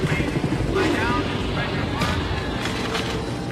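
A helicopter in a film chase scene makes a continuous rumbling, whirring drone that stays loud throughout, with faint voices underneath.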